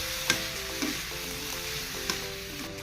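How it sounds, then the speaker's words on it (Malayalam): Sprouted beans are stirred with fried onion and chilli in a pan, a continuous sizzle with a few spoon scrapes at close range and no voices. "നമുക്കിതൊന്ന് എല്ലാം കൂടി ഒന്ന് മിക്സ് ചെയ്യാം."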